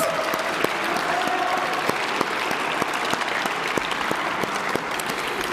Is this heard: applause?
yes